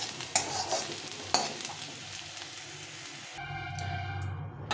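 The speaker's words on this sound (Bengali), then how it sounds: "পেঁয়াজটাকে নরম নরম করে ভেজে নিতে হবে।" Onions frying in a pan of oil for a beetroot mash, a steady close sizzle with a few sharp stirring clinks, then the tone shifts near the end as the pan sound changes; nobody speaks.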